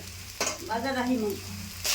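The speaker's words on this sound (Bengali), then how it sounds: "এবারে দেখতে পাচ্ছ বাটা মাছগুলো ভাজা হচ্ছে" Bata fish frying in hot oil, with a steady sizzle running under a voice that speaks for about a second in the middle.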